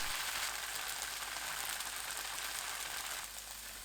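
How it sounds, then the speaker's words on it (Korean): Tofu slices pan-frying in a tablespoon of cooking oil over medium heat, a steady, dense sizzle and crackle close by, continuous and even, easing slightly near the end, with no talking. "중불로 노릇하게 굽듯이 익혀주세요"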